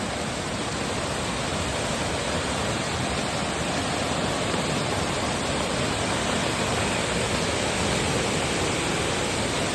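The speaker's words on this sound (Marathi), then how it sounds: "तुमका आता मी व्हाळाचं पाणी दाखवते आमच्या व्हायचा" A flooded stream rushes after heavy rain, a dense, unbroken roar of water that stays loud and steady throughout with no voices.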